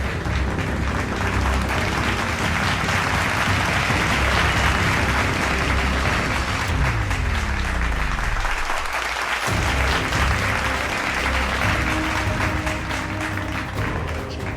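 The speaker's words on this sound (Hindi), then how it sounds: "पहले तालियों के साथ ज़ेलेंस्की का स्वागत हुआ" Sustained, loud applause fills the Canadian parliament chamber as members welcome Zelensky, a steady roar of many hands clapping without pause for the whole stretch.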